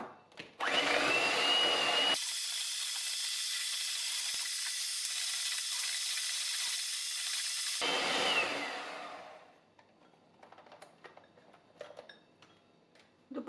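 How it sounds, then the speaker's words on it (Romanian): Electric hand mixer beating eggs into a coconut and apple cake batter, a steady loud whir that runs for several seconds, then cuts off, leaving faint clinks and light handling sounds of the bowl. "Apoi adăugăm câte un ou și mixăm."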